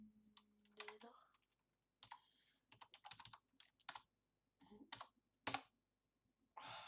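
Keystrokes on a computer keyboard while a command is entered during a Minecraft PC session, arriving in quick irregular bursts of clicks separated by short pauses, close and fairly quiet.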